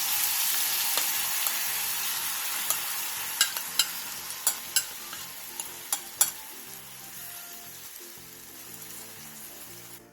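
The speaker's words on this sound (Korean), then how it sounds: "병어가 앞뒤로 노릇노릇하게 구워졌으면 양념장을 골고루 뿌려주세요." Butterfish pan-frying, browned on both sides, giving a continuous close sizzle with a cluster of sharp pops and spatters through the middle, then the frying settles toward the end.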